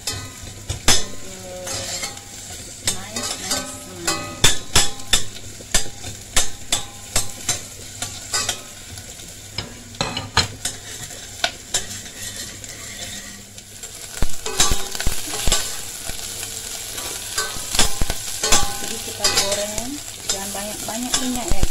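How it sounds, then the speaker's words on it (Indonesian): Chopped onions sizzle and crackle in hot oil in a pan, stirred with frequent sharp scrapes and clicks of a utensil, close and steady throughout. "Setelah panas kita masukkan onionnya guys."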